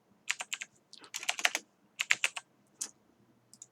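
Clicky keystrokes typed on a computer keyboard while entering a script name in a game editor, arriving in short quick bursts with brief pauses between them, close and clear with no talking.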